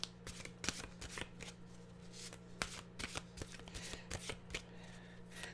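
Mantra cards being shuffled by hand, giving a quiet, close run of rapid papery riffles and soft slaps in irregular bursts, with no talking.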